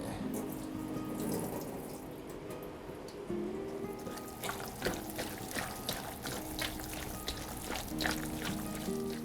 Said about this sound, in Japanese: まず水切りから入りますね。